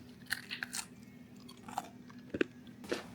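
Crisp crunching bites of homemade pork crisps with chewing, several sharp crackly bursts spaced irregularly, close to the microphone with no talking.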